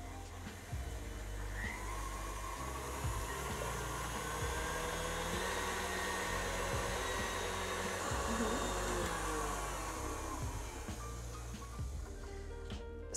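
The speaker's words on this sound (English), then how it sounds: "I'm going to whisk this on a high speed until it's ballooned up until ribbon stage." An electric whisk runs at high speed through sugar and honey for madeleine batter, giving a loud, steady whine that lasts the whole time with no pauses and no speech.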